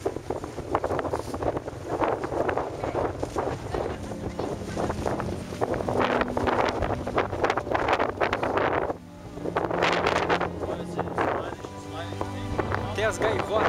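Strong storm wind buffets the microphone during a pioneer trek outing under dark rain clouds, a continuous loud roaring rush with gusts, and people talk over it at times.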